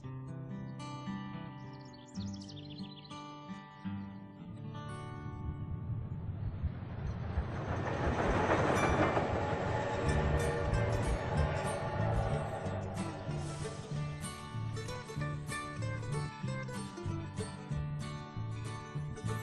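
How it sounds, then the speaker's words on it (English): A steam train's whistle wails in sustained tones on a summer day, with chuffing and rumbling building to a loud swell midway, then fading into rhythmic clatter; birds chirp faintly. "The haunted wailing of a steam train"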